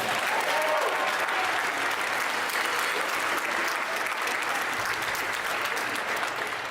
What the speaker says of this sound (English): Give me one more round of applause for Giante.